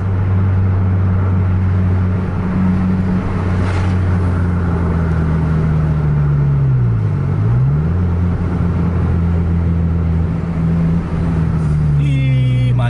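A convoy of buses racing along a highway, a steady close engine drone with a vehicle sweeping past midway and a horn-like tonal burst near the end, voices talking over it.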